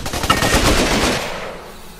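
A loud, close burst of rapid machine-gun fire in the jungle shooter Raven Squad, the rattle of shots decaying into a fading echo.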